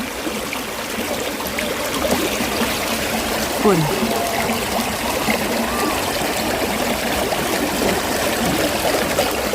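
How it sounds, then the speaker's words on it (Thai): A small stream flows beside a patch of wild garlic in English countryside, giving a steady, close babbling trickle throughout while a person talks over it. "อยู่ติดลำคานลำธารเลยนี่"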